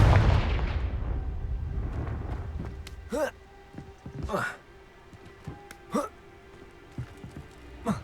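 Confringo fire spell blasts in the video game Hogwarts Legacy: a loud rumbling burst at the start fading out, then several sharper whooshing spell impacts spaced a second or so apart, with a voice calling out spells.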